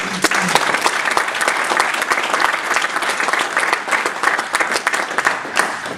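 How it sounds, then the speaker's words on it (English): An audience at the Classic Gaming Expo 2007 founders session breaks into loud, dense applause, a sustained roar of many hands clapping from start to finish, with no one speaking over it. "how about another round of applause for everybody who came to the show"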